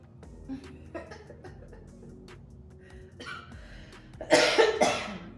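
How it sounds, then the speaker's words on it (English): Two loud, harsh coughs from a person ill with COVID-19 burst out near the end after quieter breathy shuffling, close to the microphone with no talking. "I can't do nothing without coughing or losing my breath"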